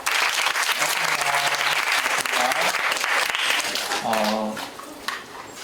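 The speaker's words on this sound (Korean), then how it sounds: "박수 쳐주세요." Students at a school curriculum briefing applaud a teacher's introduction, a loud sustained round of clapping with voices speaking over it at moments before it fades.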